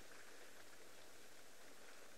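Rain falls on open African plains, a soft, uniform patter heard from a distance, faint and continuous with no voices.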